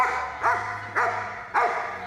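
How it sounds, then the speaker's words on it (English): A Belgian Malinois gives three big, loud barks in an even rhythm, close up, with no talk over them. "We take a Malinois, which has a pretty big toothy bark that looks to the unknowing eye maybe really mean."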